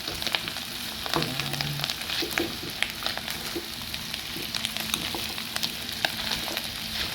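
Offal for bopis (pulutok) sautéing in a pan, a steady close crackling sizzle with scattered sharp pops and brief stirring scrapes throughout.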